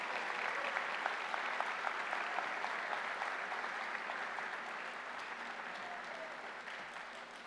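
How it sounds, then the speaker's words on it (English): Sustained applause from a high school graduation audience at Cohasset High, a dense wash of many hands clapping steadily at moderate distance, tapering off slightly toward the end. "We can clap for her."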